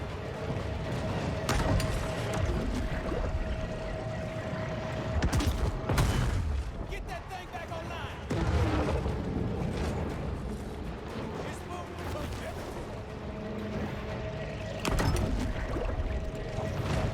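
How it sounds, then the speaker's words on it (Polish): In the underwater video game Maneater, torpedoes launch and explode as repeated heavy booming bursts over a constant rumbling game soundscape, with someone talking at times. "Wypuściłem petardę. Torpedę, sorry."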